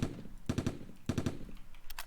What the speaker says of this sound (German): Es ist er verfolgt mich mit einem Granatenwerfer.